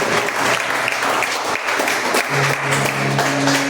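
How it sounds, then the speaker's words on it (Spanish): A church congregation gives God a loud round of applause at an evening service, dense continuous clapping close up with a few sustained tones rising underneath. "Dale un aplauso a Dios."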